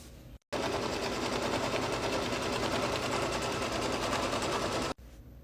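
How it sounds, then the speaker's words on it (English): An embroidery machine stitching two fabric pieces together in the hoop for a lined beach bag: a loud, continuous rapid mechanical chatter that starts abruptly and stops cleanly after about four and a half seconds. "bring it back to the machine to join the two pieces"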